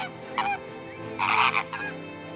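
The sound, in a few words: birds honking on the Karachi coast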